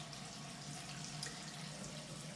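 Warm water runs from a tap while preparing for a facial shave, a steady, faint, even hiss of flowing water that holds without a break.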